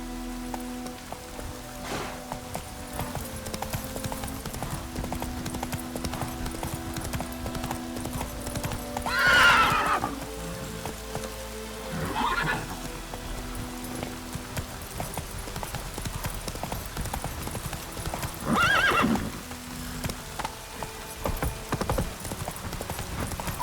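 A horse clip-clops at a steady gallop in The Witcher 3 video game with rain falling, the rapid hoofbeats running throughout and whinnies rising out of them a few times.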